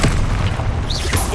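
Incendio fire spell cast in Hogwarts Legacy, a loud whooshing boom with rushing broadband roar that sustains and tails off, over busy game sounds.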